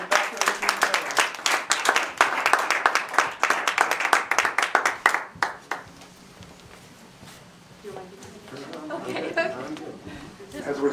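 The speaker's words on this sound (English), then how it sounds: "Big round of applause again for Dr. Brian Caputo, Dr. Whitney Martino, Dr. Norrell, Dr. Sobek, and Dr." Rhythmic, fairly close clapping from an audience at a community panel event fills the first half, then stops, leaving murmured chatter and a voice speaking.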